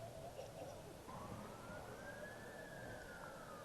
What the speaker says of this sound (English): we heard the sirens, and sometimes they sound like they're right around the corner, and then other times they sound like they're in the distance.